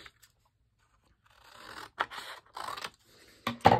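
Scissors cutting off a piece of cardstock for a thank-you card panel, a few short crisp snips and scraping strokes close by, fairly quiet, with no talking.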